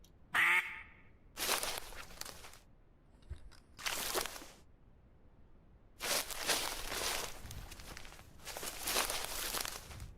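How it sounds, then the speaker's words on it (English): Ducks quack in a video game, with short bursts separated by quiet gaps. The quacks are faint and come from a distance. "I think I just caught it at maximum quack range."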